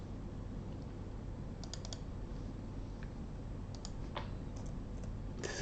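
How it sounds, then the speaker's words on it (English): Clicky computer keyboard keys are typed in short bursts of a few taps each, close and fairly crisp, with pauses between over a low steady background hum. "we're going to type delete"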